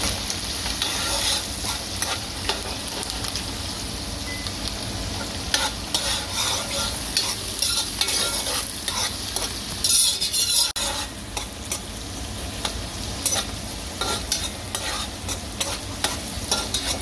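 Onion, ginger and thyme fry in oil for Guyanese fried rice, producing a steady close sizzle with frequent scraping stirs and clattering spoon strokes throughout.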